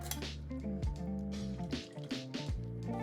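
Chunky, wet contents slide and plop into a pot in a few thick, squishy pours, with a faint metallic clink of the can.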